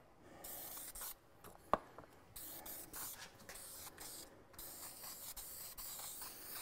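Spray gun laying a second coat of lacquer onto alder wood, a steady hissing spray in several bursts with brief pauses and a sharp click partway through.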